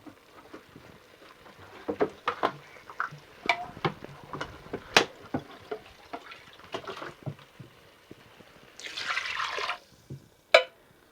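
Water pours into a metal saucepan of white beans in a few splashy bursts, with light clinks and drips scattered around them and a louder gush near the end.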